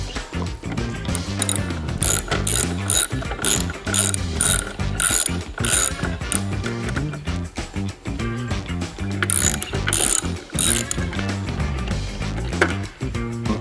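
Ratchet with a T45 bit backing out Harley-Davidson OEM docking hardware on a Low Rider ST, a steady run of rapid pawl clicks with brief pauses, loud and close throughout.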